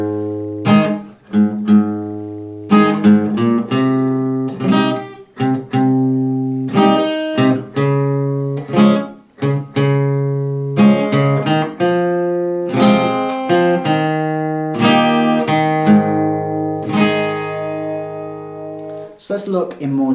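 A guitar strums the chord progression of a song, with a moving bass line linking the chords. Rhythmic strums and picked notes carry on for about twenty seconds, close and loud, with no voices.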